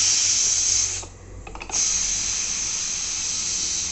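Pressure cooker releasing steam after cooking carrot halwa, a loud, close continuous hiss that dips for a moment with a few sputters, then resumes at full strength and holds steady.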